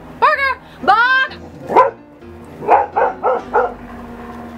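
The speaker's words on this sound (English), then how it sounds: "Barking Sam, would you shut up?" A dog's barks and yips come close and loud: two drawn-out, whining yelps, a single sharp bark, then a quick run of four clipped barks, with no talk alongside.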